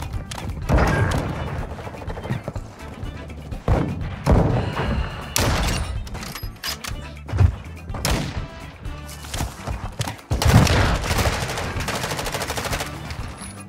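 Loud shots in a first-person shooter played with a sniper rifle, heavy individual booms spaced a second or two apart with thuds and impacts between them and little talking.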